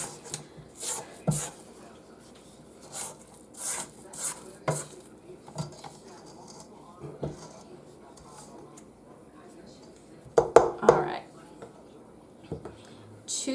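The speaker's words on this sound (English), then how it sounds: "we will scrape down the sides of our bowl" Sides of a bowl of chocolate chip cookie dough are scraped down with a spatula: soft, intermittent rubbing and scraping strokes, quiet and close, with a few louder clatters near the end.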